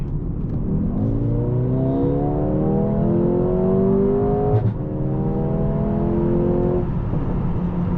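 A Mercedes CLA 35 AMG coupe accelerates onto a highway, its engine heard from inside with repeated rising revs through several gear shifts, loud and close with road rumble beneath.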